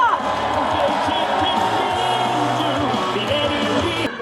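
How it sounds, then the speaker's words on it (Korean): A large crowd of about seven thousand at an outdoor political campaign rally in Sejong claps and cheers loudly and steadily, a dense, continuous roar of applause and shouting filling the space. "다시 한번 뜨거운 박수와 함성 부탁드립니다"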